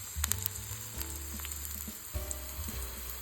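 Green chilies fry in heated oil in a pan, a constant close sizzle and crackle with a few sharp pops and the scrape of stirring.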